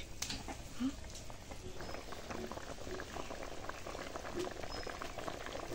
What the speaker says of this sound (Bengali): এখন আমি ঘি দিয়ে দিলাম 1 চামচ